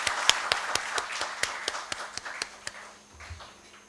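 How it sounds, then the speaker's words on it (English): Applause from the audience at a medical allied science talk, thinning to a few distinct, fairly loud claps at a brisk, uneven rhythm that fade out after a few seconds. "Let's give a round of applause."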